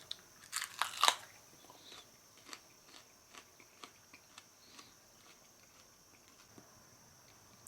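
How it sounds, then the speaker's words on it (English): Close bites into a ripe Chay pepper, a few sharp crisp crunches followed by a series of soft, regular chewing clicks and squelches, quiet and intimate. "let's take another bite and work our way up"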